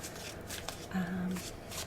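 A tarot card deck is shuffled by hand in a quiet ASMR setting, giving soft riffling and flicking close to the microphone, with faint talk partly under it.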